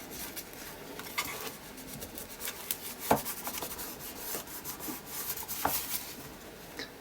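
Paper with layered paint is rubbed down by hand in a mixed-media piece. It makes a steady, close scratchy rasp of repeated strokes, with a few sharper scuffs standing out.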